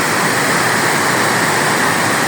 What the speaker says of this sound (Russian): Это река Лиммат в Швейцарии. Сегодня течение очень сильное.